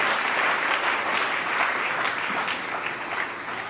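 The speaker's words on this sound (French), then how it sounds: "Est-ce que tu peux acclamer encore la parole de Dieu?" A church congregation gives a steady, loud round of applause during a Sunday worship service, the dense clapping sustained throughout and gradually easing slightly at the end.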